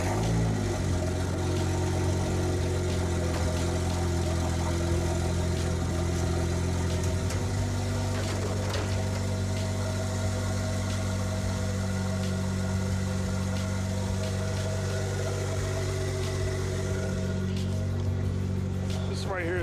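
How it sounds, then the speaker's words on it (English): A Toyota JZX81 idles close by on a cold day in Misawa, Japan, its deep, steady engine rumble filling the whole stretch while someone talks over it. "let's go over here and start the JZX81 up really quick"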